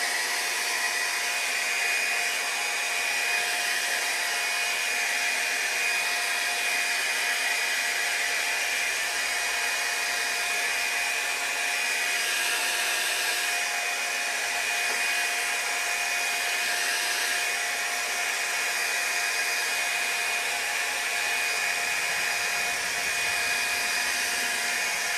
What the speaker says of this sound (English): It's a brush hair dryer, so it blows out cool air.